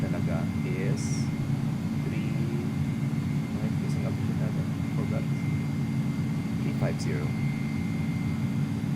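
Airbus A300 airliner engines in flight in X-Plane 11: a steady, even cabin drone with a low hum that stays constant throughout, under a voice talking and a few faint clicks.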